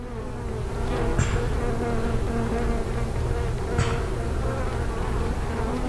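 Honeybees fill a hive with a dense, steady drone that stays loud and close throughout, with a couple of brief sharper buzzes rising above the constant hum.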